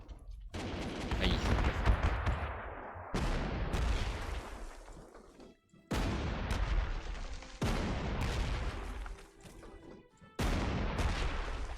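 Artillery fire in a World War II strategy game set at El Alamein: about five heavy, booming blasts, each roaring up loudly and then decaying before the next one strikes.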